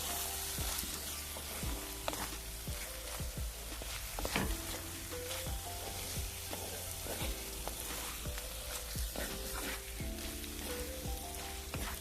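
Kerala-style prawn roast fries and crackles in a pan as it is stirred, a steady close sizzle broken by frequent scraping strokes of the spoon, with no voices.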